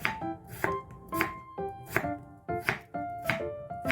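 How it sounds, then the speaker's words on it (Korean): Knife chopping potatoes into bite-size pieces on a board for a dried pollack and potato soup, about a dozen crisp, evenly spaced cuts close by in a steady rhythm, with no talk. "감자를 먹기 좋은 크기로 썰고"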